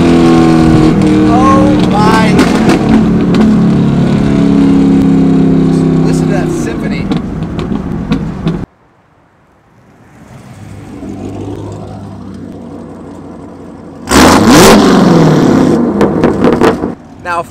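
A car engine revs hard and loud up close, drops away suddenly to a quiet idle, then roars back with another sharp burst of revving.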